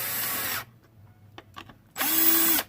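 A power tool runs loudly on a Memphis bass guitar under repair, whirring steadily, cutting out into near silence with a few faint knocks and clicks, then starting up again at full roar.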